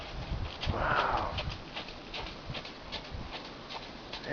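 Horses walking near a rural road on the way back from Lawrencetown Beach, hooves clip-clopping in a loose, irregular rhythm at moderate distance, with a brief rustling swell early on and no talk.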